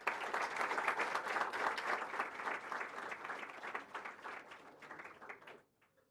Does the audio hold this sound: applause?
yes